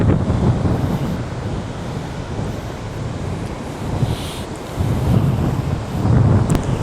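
Ocean surf rolls onto a Gold Coast beach in Australia while wind buffets the microphone, giving a steady rushing roar with surging swells and no talking.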